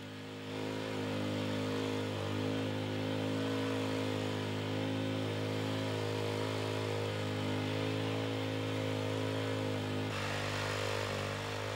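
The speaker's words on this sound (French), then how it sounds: "La couche de surface, qui doit avoir une épaisseur minimale de 30 cm, est ameubli à l'aide d'un motoculteur." A rototiller loosening garden soil to a depth of 30 cm: a steady, close motor drone with a constant hum and a slight shift in tone near the end.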